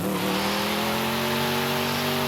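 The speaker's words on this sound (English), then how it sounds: "I mean, you can barely hear the fact that it has a V8 engine." V8 car engine in Forza Horizon 5 revving hard at full throttle, a loud steady throaty drone with clear rising harmonics, close and continuous throughout with no talking.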